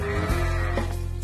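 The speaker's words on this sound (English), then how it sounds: "he saw a shepherd with an enormous flock of sheep." Sheep from a large flock bleat with a wavering, nasal cry over a sustained musical bed and layered sound.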